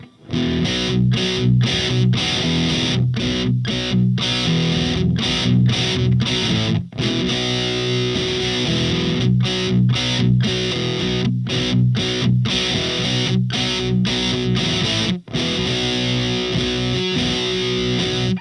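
Distorted electric guitar played through a JOYO Hot Plexi pedal into a Marshall cab, a loud, dense crunchy tone with rhythmic chords and brief stops, continuous and up close with no talking.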